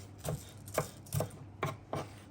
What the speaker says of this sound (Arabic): هلا راح افرم فارمي بصلتين كبار يعني او 3 صغار